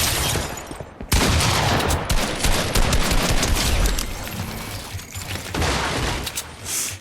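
Sustained assault rifle fire from the Fortnite video game, a dense continuous barrage of rapid shots with a brief break near the start, loud and close throughout.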